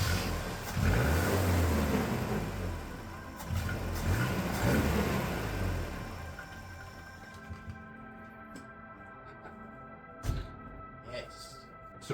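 A vehicle engine fitted with a newly installed eBay carburettor starts and revs loudly in uneven bursts for several seconds, then fades out because it will not hold an idle. Faint clicks and handling noises follow, with voices in the background.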